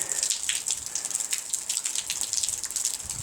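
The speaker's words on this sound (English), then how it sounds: "We've got some water dripping." Water dripping and pattering in a quick, continuous spray of small drops onto a surface, fairly close, near icicles in snowy winter conditions.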